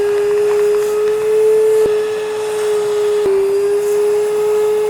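A Henry-style vacuum cleaner runs loud and close with a steady high motor whine, broken by two brief clicks or knocks while it works on fabric car mats.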